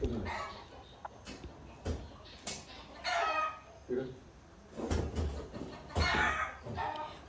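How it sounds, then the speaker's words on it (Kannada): Chickens in the background on a Coorg home farm squabble and fight, giving bursts of clucking and squawking in uneven clusters, moderately near and fairly faint, with no talk. "ಅಲ್ಲಿ ಕೋಳಿಗಳು ನೋಡಿ ಕಚ್ಚಾಡ್ತಾ ಇದ್ದಾವೆ. ಆ ಬ್ಯಾಕ್ಗ್ರೌಂಡಲ್ಲಿ ನೋಡಿ ಹೆಂಗೆ ಕೇಳಿಸ್ತಾ ಇದೆ."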